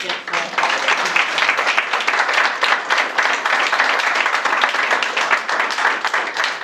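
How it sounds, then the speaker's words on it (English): An awards ceremony audience applauds a learner in a sustained round of dense clapping, loud and close, with a voice speaking over it. "Give her a round of applause"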